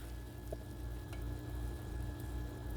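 Garlic fried rice (sinangag) sizzles quietly in a pan, a soft continuous crackle with a low steady hum beneath and no talking.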